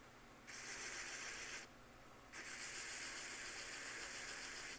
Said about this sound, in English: Just a little disc, you know, little mini disc sander.